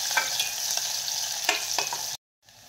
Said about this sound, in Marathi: त्यामध्ये आपण लगेच बारीक चिरलेला कांदा घालून घेऊया। कांदा छान परतून घ्यायचा आहे।